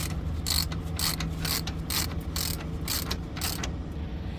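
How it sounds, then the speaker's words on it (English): A 17mm socket wrench ratchets a nut loose on a 2021 Freightliner Cascadia truck kingpin, giving about nine evenly spaced, crisp metallic clicks over a low mechanical hum, close up and with no talking. "Using 17mm socket, we unscrew the nut for upper draw key and lower draw key from opposite side."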